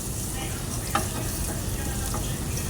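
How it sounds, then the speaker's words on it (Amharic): Garlic and ginger frying in a pan for a pasta salad dish, a steady close sizzle with a few faint clinks of stirring and no talking. "እና በዚህ መልኩ እንጠብሰዋለን ማለት ነው።"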